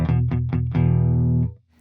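An electric guitar through a clean signal chain ahead of a DOD Gonkulator ring modulator pedal plays several quick plucked notes, then one sustained note that rings out clearly and fades to silence.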